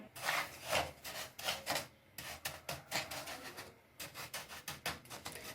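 Sesame seeds lightly frying and being stirred in a pan over fairly high heat, giving a steady run of scraping, rustling strokes with short pauses between them, close and moderately loud with no voices.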